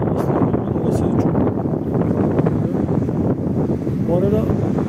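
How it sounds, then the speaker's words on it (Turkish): Strong wind roars steadily into the microphone at a campsite in Gelibolu, Çanakkale, a loud continuous rumble with no pauses. "Gelibolu çok rüzgarlı arkadaşlar. Aşırı rüzgarlar."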